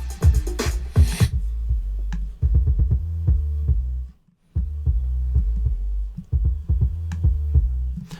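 A broken beat plays through a DAT tube distortion plugin in Cubase 7.5, a deep thumping kick pattern with a steady hum and a brief dropout partway through.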